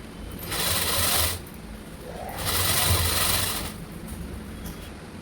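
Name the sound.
sewing machine stitching a blouse neckline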